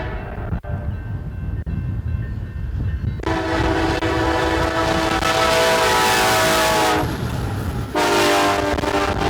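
A coal train rumbles past a cement factory near Louisville, Nebraska, with a loud, sustained horn blast, then a second horn sounding after a brief break, over steady wheel noise.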